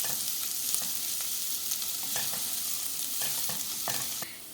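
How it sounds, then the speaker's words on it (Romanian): Vegetables for a vegan pea stew fry in a pan with a constant close sizzle, stirred now and then with soft scraping strokes, no voices, the hiss dropping off at the very end. "Lăsăm până ce se înmoaie legumele. În jur de 2-3 minute. Amestecând din când în când."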